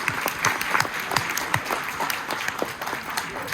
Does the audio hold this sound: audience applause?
yes